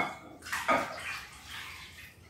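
Milk is poured into a homemade yogurt mixture in a kitchen, a soft splashing liquid stream lasting about two seconds and then tapering off, with no talking.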